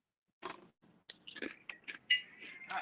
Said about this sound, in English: Oh, no, I can hear a crunch.